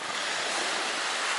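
Sea surf washes ashore at low tide on a Baltic beach, a steady broad rushing hiss of breaking waves with some wind buffeting the microphone, no voices.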